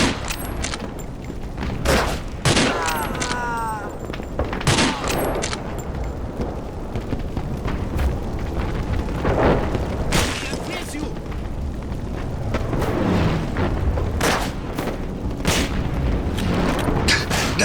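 Gunfire and explosions from the first-person shooter NecroVisioN go off in heavy, irregular booming volleys, loud and close, with a voice speaking between some of the blasts.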